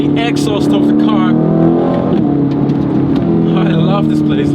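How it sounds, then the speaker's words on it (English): A 2025 Aston Martin Vantage engine drones steadily nearby, with sharp exhaust pops crackling in short bursts near the start and again at the end, under continuous talk. "A huge pop coming out of the exhaust of the car."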